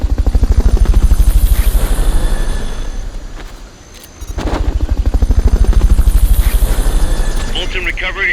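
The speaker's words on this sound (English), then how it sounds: "Fulton recovery subject confirmed onboard helicopter." Fulton recovery helicopter in Metal Gear Solid: Peace Walker, a loud, close rotor beat with a rapid steady chop that briefly dips midway before surging back.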